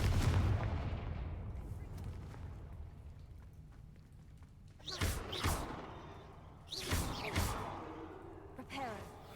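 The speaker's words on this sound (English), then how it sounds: "Confringo." Confringo fire spell blasts in the Hogwarts Legacy video game, several booming bursts with sweeping whooshes over a low rumble, each blast fading before the next.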